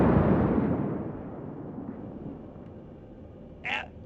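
A single heavy naval gun blast from a warship in the World of Warships game booms loudly, then its rumble decays slowly over several seconds, with a short faint pop near the end.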